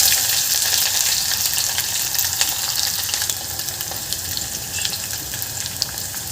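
Onion tossed into hot oil with slit green chillies in a pan, a loud continuous close sizzle that crackles steadily and eases off slightly over time.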